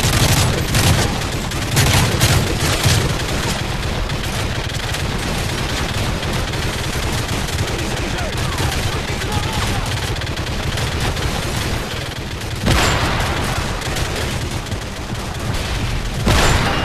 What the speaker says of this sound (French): Éliminez cette mitrailleuse qu'on puisse avancer.